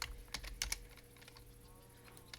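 Quick burst of clicking computer keyboard keys during a Minecraft session, close and distinct at first, then fading into quieter scattered taps.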